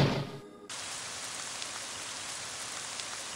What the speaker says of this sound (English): It started raining in the room.